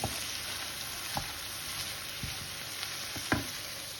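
Chicken gizzards with chili cooking slowly over low heat, giving a steady soft sizzle throughout with a few faint utensil taps, alone without talk.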